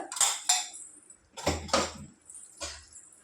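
Turmeric and ginger-garlic paste are stirred and fried in a pan for a ridge gourd, moong dal and tomato dish. Three quiet clusters of metallic clinks and scrapes from the spoon against the pan are heard, with near silence between them.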